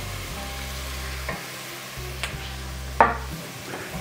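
Mirepoix with about a teaspoon of dried chopped thyme sizzling in a soup pot, a steady low frying hiss with a few light stirring scrapes and clinks, close and alone without talk.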